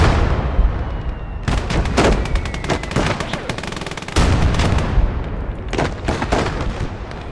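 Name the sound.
machine gun fire in video game Blood Red Snow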